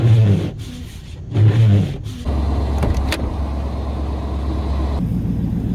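A Chevy 454 Mark V big block engine runs after a cold start with a loud, steady low rumble at idle, preceded by a couple of short starter-like bursts.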